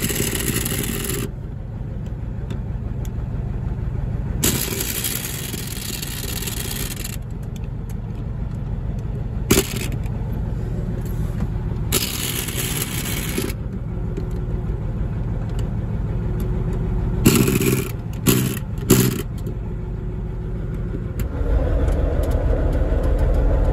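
A Landini tractor runs with its PTO clutch engaged, a steady low engine drone lasting throughout, broken by several bursts of louder hissing, rattling noise that start and stop abruptly.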